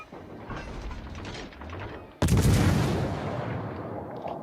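Naval guns fire shells in a warship video game: a low rumbling build-up breaks into one sudden, loud, deep salvo blast that rolls on and slowly decays.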